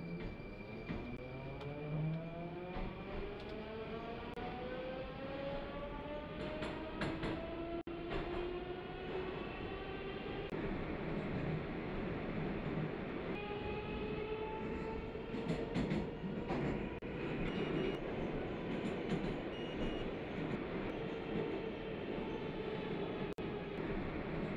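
Moscow metro train from the game Moscow Subway Simulator 2D, motor whine rising and falling in pitch as it accelerates, with steady rumble and occasional clicks over rails, continuous and close throughout.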